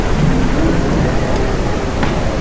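Heavy rain pours down in a survival video game in a dense, constant roar, with rolling thunder rumbling underneath throughout.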